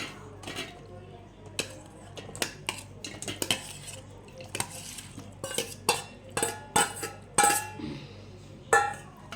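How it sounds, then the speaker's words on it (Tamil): Cut pieces of palm fruit are dropped into a kitchen vessel with a spoon, giving a series of sharp clinks and soft knocks that come in irregular clusters. No one speaks, though a low hum continues in the background. "அந்த நொங்கெல்லாம் எடுத்து ஒரு பாத்திரத்தில் போட்டுக்கலாம்"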